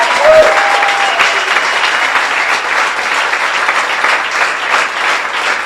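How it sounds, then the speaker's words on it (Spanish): Congregation in a church service clapping hard for several seconds, a loud, dense and steady roar of applause, with a brief voice or tone at the start. "Dar un aplauso al Señor."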